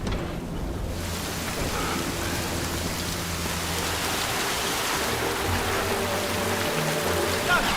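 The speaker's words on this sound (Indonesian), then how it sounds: "Hujan deras memicu banjir besar di perkampungan mereka." Heavy rain pours down steadily in a continuous dense hiss, loud and close, with a low rumble underneath and no clear voices.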